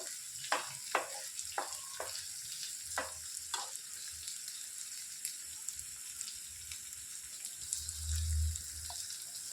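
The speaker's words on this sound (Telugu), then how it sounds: "బాగా కలుపుకుంటూ ఫ్రై చేసుకోవాలి." Bitter gourd pieces fry in a pan with a soft steady sizzle, broken by several sharp scraping knocks of stirring early on and a low rumble near the end; quiet overall, no talking.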